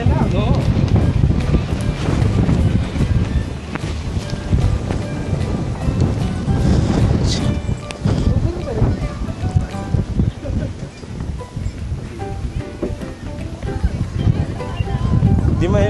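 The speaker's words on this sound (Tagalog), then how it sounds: "Lakas ng hangin guys." Strong wind buffets the microphone in a steady low roar at Yehliu Geopark on the coast of Keelung, Taiwan, with a voice talking over it throughout.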